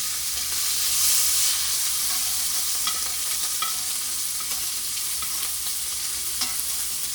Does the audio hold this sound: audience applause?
no